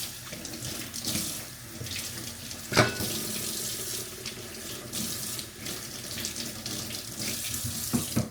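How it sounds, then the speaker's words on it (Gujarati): Lemons are washed under a running kitchen tap: a loud, continuous rush of water splashing into the sink, with a brief knock near the middle, close and with no talking. "તો લીંબુ પહેલાં ધોઈ નાખીએ."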